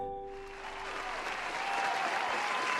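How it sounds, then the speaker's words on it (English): A crowd breaks into steady, dense applause that swells slightly and holds at a loud level after a brief tonal sound at the start. "Nah, clap it up, chat."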